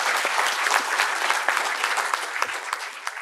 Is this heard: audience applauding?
yes